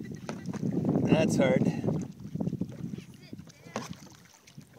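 A kayak is paddled one-handed on a guided tour at Rookery Bay, Naples, Florida: brief splashing paddle strokes and water swishes close by, with a person speaking briefly and light wind noise.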